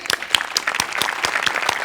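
Loud applause from a live audience at a Marathi comedy show, honoring performer Shivali Parab, a dense burst of clapping lasting a couple of seconds.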